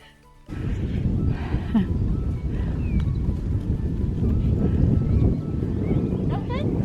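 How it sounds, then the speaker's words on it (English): Steady, loud wind buffets the microphone throughout during horse riding at a cross-country schooling lesson, a constant low rumble after a brief quiet start, with faint scattered tones above it. "I think you'll get a bit bored of hearing lots of wind"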